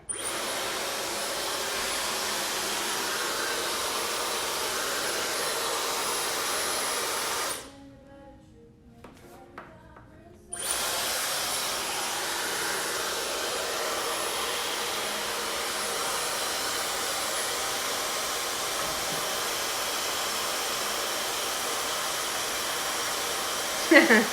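A hair dryer fitted with a diffuser blows a loud, steady whoosh close by while drying curly hair, cutting off for about three seconds before running again to the end.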